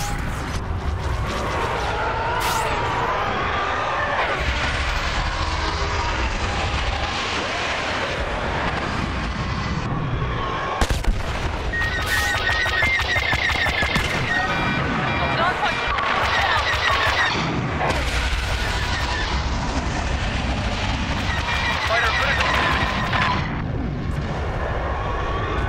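Star Wars Battlefront, a 2015 game, in an infiltration match: U-wing fighters roar overhead amid dense blaster fire, booms and explosions, loud and continuous, with brief spoken radio orders.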